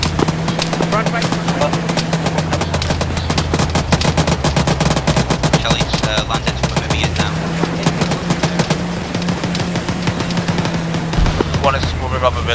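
Sustained rapid gunfire in a firefight against a cartel, automatic bursts crackling continuously at close range with a low engine-like drone underneath.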